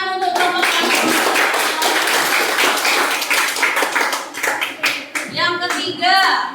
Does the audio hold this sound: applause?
yes